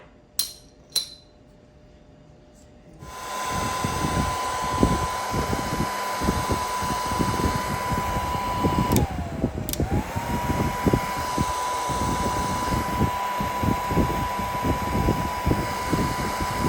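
A heat gun shrinks heat shrink tubing on winch wiring for a Polaris Ranger 900 XP. After a couple of quiet clicks it switches on to a steady, loud blowing roar, with its tone dipping briefly partway through while small knocks sound beneath.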